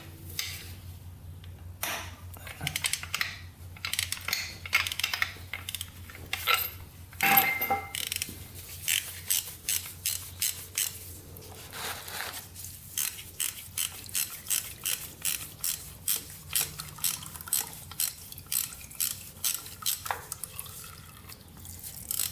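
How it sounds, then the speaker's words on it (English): A wrench ratchets loose a stripped motorcycle oil filter on a Honda, its clicks coming in quick repeated bursts, then settling into a long steady run of evenly spaced ticks up close. "Crank this thing loose. It's kind of stripped out."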